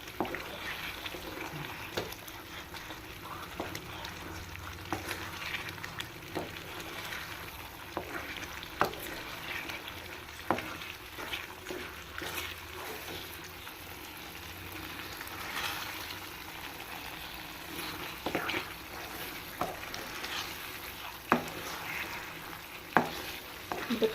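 A ladle stirs thick Thoothukudi halwa cooking in coconut oil and ghee in a pan, giving repeated scraping knocks and a soft sizzling bubble at moderate loudness throughout.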